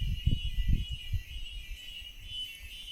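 Cicada drone from an insect held near bird-banding nets in the mountains, a steady high buzz running throughout under low rumbling handling noise, moderately loud and close.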